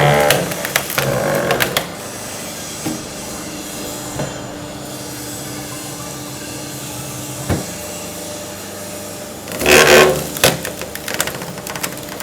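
An automatic hydraulic firewood splitting machine works through wood, giving a steady mechanical hum with clattering, grinding bursts at the start and again near the ten-second mark.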